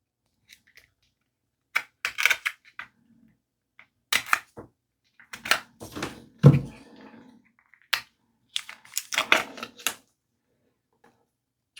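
A Polish-supplied Ukrainian military ration packet of peach marmalade is torn and crinkled open in short, sharp bursts of plastic rustling and tearing, separated by brief pauses, close to the microphone with no talking.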